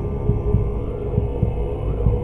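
Heartbeat sound effect in a horror podcast: a steady, loud thump-thump pulse repeating about five times over a low droning hum, with no voices.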